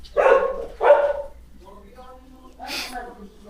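Two sharp dog barks in quick succession, followed by softer whining yelps, then another bark; fairly close and loud.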